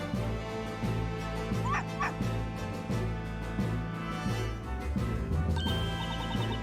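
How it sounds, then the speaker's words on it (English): An aggressive dog in Professor Layton vs Phoenix Wright: Ace Attorney, Constantine, gives a string of rhythmic bow-wow barks over game music, with a couple of higher yips partway through. "Wait a minute, that aggressive bark."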